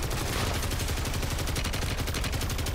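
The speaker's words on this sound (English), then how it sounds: "Their sentry gun's laying into me." Sentry gun in Modern Warfare 3 Zombies pouring out sustained rapid automatic fire, a dense unbroken stream of close, loud shots lasting throughout with no pauses.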